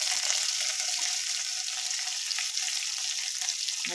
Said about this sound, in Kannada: ಹೀಗೆ ಫ್ರೈ ಮಾಡ್ಕೋಬೇಕು